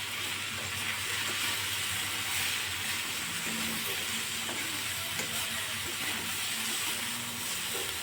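Potatoes with spices and bitter greens fry in a pan, giving a steady, loud, continuous sizzle and hiss with no pauses and no talking.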